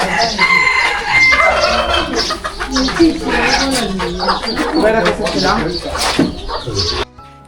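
Country chickens on an Amish farm cluck and crow nearby in a busy, continuous chorus while someone speaks over the birds.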